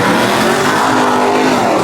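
A car revving hard at a car meet, a loud, continuous raspy engine roar with a screeching edge, close by and sustained for about two seconds with no talking.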